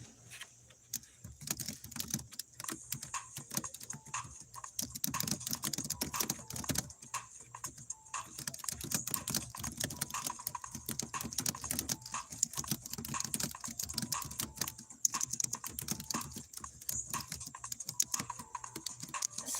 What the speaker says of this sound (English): So I'm typing in my question.